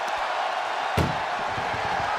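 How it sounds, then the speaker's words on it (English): A wrestler is powerbombed into the back of an ambulance during a WWE Raw ambulance match, landing with one sharp heavy slam under a constant roar of arena crowd noise that goes on after the hit. "Powerbomb right into the ambulance."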